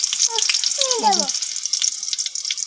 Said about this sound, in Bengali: আমার তেলটা গরম হয়ে গেছে এখন আমি এখানে দিয়ে দেব পেঁয়াজ রসুন কুচি